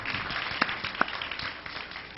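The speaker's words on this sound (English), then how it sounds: "Let's give that young man a round of applause for that question." An audience at a college event claps for a young man after his question, a short burst of scattered, fairly faint applause with a few sharper individual claps.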